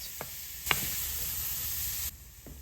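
Onions sizzle steadily in bacon fat in a pan, a close hiss with a few light knocks of stirring.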